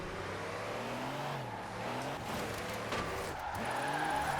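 A truck with a locked differential drifts in Forza Horizon 4, its engine droning and shifting pitch while tires squeal faintly across a continuous slide.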